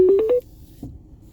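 A quick run of four telephone keypad tones, rising slightly in pitch, sounds loudly and close, then gives way to quiet outdoor background with a brief faint noise.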